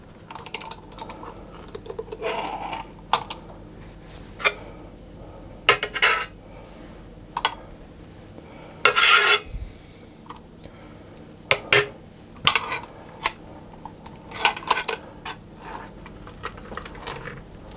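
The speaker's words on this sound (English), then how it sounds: "get them nicely mashed. But you can mash them any way you want." Potatoes are being mashed in a bowl for a cottage pie. Sharp, uneven knocks and scrapes of a utensil against the bowl come close and clear, separated by quiet gaps.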